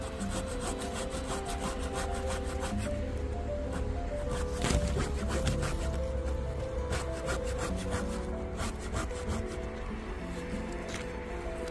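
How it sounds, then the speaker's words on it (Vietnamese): A hand saw cuts back and forth through a branch of a large fig bonsai tree, a continuous rasping, scraping rhythm held close and loud throughout with no talking. "Cưa từng tí một ạ."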